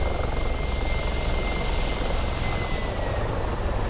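A Mi-24P Hind attack helicopter in the DCS flight simulator runs with a steady, unbroken turbine whine and thrumming rotor noise, moderately loud and even, with no talk over it.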